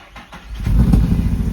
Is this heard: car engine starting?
yes